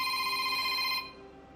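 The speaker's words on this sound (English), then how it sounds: "That was my phone ringing." A telephone rings loudly and steadily with a bright electronic tone, then cuts off abruptly, leaving a quiet room with a faint hum and no talking.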